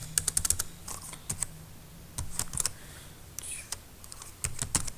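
Fingers typing on a computer keyboard while entering a name into a character array, irregular bursts of crisp close key clicks with brief pauses, faint background hiss and no talking.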